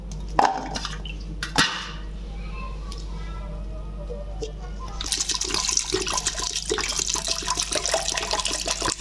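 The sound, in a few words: washing jackfruit seeds in water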